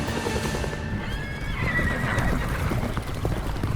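A horse in open horse country whinnies loudly and close by, a rising and falling neigh, over a steady background of hooves clip-clopping.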